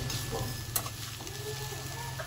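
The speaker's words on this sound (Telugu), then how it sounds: "ఇంకా గోల్డెన్ కలర్ వచ్చేంత వరకు మూత పెట్టుకోకుండా వేగించుకోవాలన్నమాట" Bitter gourd frying uncovered in a pan until golden, with a steady low sizzle and scraping stir strokes, one sharper clank partway through, close and moderately quiet with no talk.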